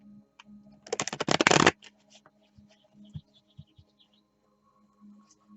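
A short, rapid riffle of tarot cards being shuffled, crisp and close, followed by a few soft taps and near silence.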